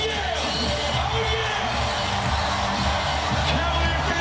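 Crowd at the Quicken Loans Arena before an NBA playoff game, a continuous loud roar of cheering and whooping with a dense hubbub of voices, sustained throughout.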